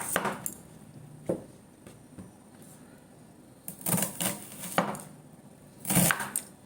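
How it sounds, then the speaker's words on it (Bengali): A knife chops through two onions for a home-style Bengali dish, giving clustered clicking taps on a board with brief pauses between bursts of rapid strokes, close and fairly crisp in a quiet kitchen. "প্রথমে পেঁয়াজ দুটো কেটে নেব।"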